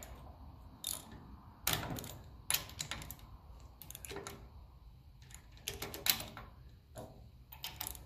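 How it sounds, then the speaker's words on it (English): Metallic clicking and ratcheting of differential gears as the half shaft of a 1954 Ferguson 200 TEF diesel tractor is turned by hand, coming in irregular close bursts with brief pauses between them. "Turn this half shaft one way, the other one turns the other way."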